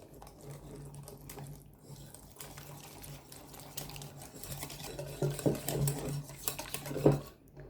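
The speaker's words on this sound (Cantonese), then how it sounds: "我用咗餐桌鹽，少許，再加半湯羹嘅油， 將佢攪勻佢" Table salt and half a tablespoon of oil stirred together in a bowl for a Taiwanese egg pancake, giving steady light scraping and clinking of utensil against the bowl, with a few sharper taps near the end.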